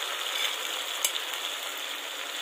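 Pumpkin greens get stirred through ginger paste and spices in a pan, a faint soft scraping hiss with one brief clink partway through and no voices.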